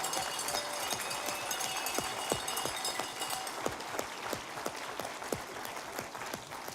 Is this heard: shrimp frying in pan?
no